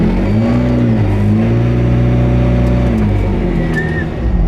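A McLaren P1 GTR engine runs loud and close, its drone shifting in pitch as the revs rise and fall, with no talking.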